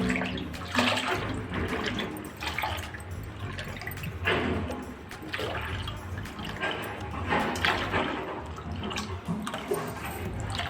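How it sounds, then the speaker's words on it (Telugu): Water is poured for mung bean flour vadiyalu, a steady pouring and splashing stream that swells and eases in waves, close and fairly loud, with no talk. "వాటర్ పోసుకుందాం తగినంత."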